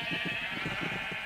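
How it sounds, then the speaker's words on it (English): A sheep bleats in quick wavering pulses over a steady background hum, a short close cry. "Move, sheep, move."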